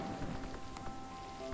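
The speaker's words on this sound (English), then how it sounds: "So, wait, it's rain. Rain is happening." Rain falls steadily in the Terra Nil video game, a soft continuous patter of drops on surfaces with no voices over it.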